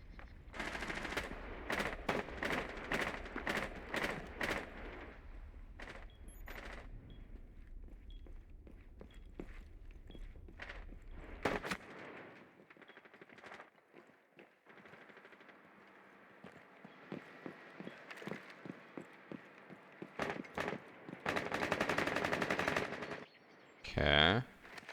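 Video game gunfire: rapid bursts of close shots in quick succession, then scattered single reports and footsteps, with a loud sustained burst near the end.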